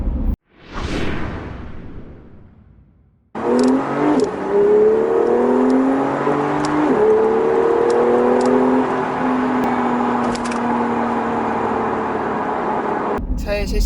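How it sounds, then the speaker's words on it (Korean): A Porsche rushes past with a quick whoosh, then after a short lull its engine and exhaust pull hard in acceleration, a loud rising whine with climbing tones that holds for about ten seconds before cutting off. "엔진음이나 배기음이 특히 매력적이고 가속했을 때 카랑카랑하게 치고 나가는 느낌이"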